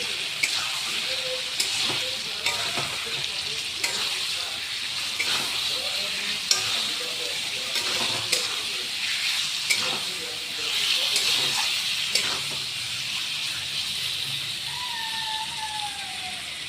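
Marinated meat fries in a hot pan with a loud, steady sizzle and hiss that holds throughout, broken by the scrape and clatter of stirring.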